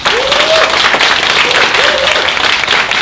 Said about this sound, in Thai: ขอเสียงปรบมือให้ตัวเองหน่อย